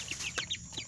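Chickens clucking close by, a steady run of short overlapping clucks with no pauses between them.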